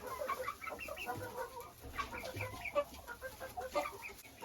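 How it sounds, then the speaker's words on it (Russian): Low, soft clucking and murmuring calls from a rooster calling hens to the nest, repeated in a loose rhythm at close range with faint farmyard noise behind. "петух, и созывает туда кур нестись"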